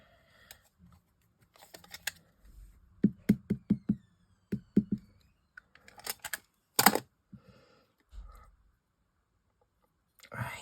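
A rubber stamp is inked in black and pressed onto paper for a Christmas craft, giving a handful of sharp taps and knocks in quick bursts, with quiet pauses between them.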